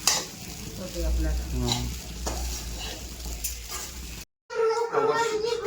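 Sabudana and bhagar cutlet mixture being stirred in a hot pan, a steady close sizzle with scraping strokes for several seconds, then a brief pause before the stirring resumes, with faint voices in the background.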